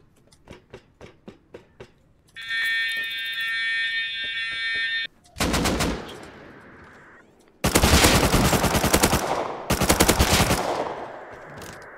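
Automatic AK assault rifle fire from the survival video game Rust, loud, close bursts of rapid shots with a harsh ringing tone, following a row of short sharp clicks and a steady high electronic tone.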